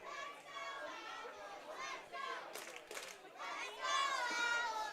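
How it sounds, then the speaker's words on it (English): Crowd noise at a Bend Elks versus Nanaimo NightOwls baseball game in the stadium, a lively murmur of voices and children's shouts that swells toward the end, under a radio announcer's talk. "This crowd's starting to pick up."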